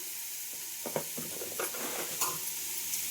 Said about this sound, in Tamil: தக்காளி நல்லா இந்த மாதிரி வதக்கிட்டுங்க